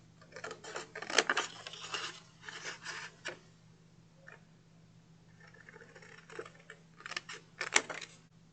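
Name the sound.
scissors trimming paper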